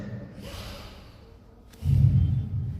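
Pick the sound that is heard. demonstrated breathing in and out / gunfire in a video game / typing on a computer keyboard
demonstrated breathing in and out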